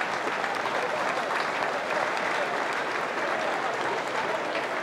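Spectators applaud at a Gaelic football match, the junior county final between Headford and Tuam Stars, with a broad, steady wash of clapping that holds evenly across the stretch.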